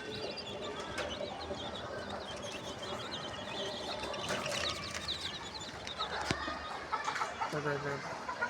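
A flock of about forty desi chickens clucks and murmurs in a yard, with scattered nearby calls over a soft, continuous background and occasional human voices.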